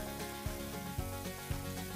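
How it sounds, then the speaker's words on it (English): Steady, bright sizzling of yeasted donuts frying in hot oil, close and continuous, with soft periodic pops. "Sizzling already."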